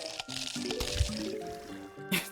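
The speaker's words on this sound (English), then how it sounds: "That splash is so silly." A zombie splashing into the backyard pool in the video game Plants vs. Zombies, a wet squishy splash with sloshing water under continuous game music, ending in a brighter final splash.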